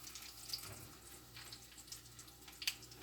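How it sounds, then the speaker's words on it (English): Hands rinsed under a running kitchen tap, a faint steady stream of water with a few small splashes and clinks, heard close and low with no talking. "I'm going to rinse my hands"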